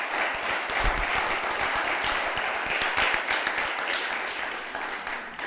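Audience applause for the finalists at an evening TV contest show, a steady dense clapping wash that holds loud and even throughout with no break.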